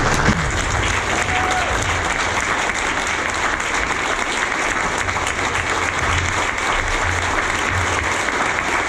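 Sustained audience applause at a quarterback club gathering welcoming coach Mark Richt, a dense steady clapping from a full room held for several seconds.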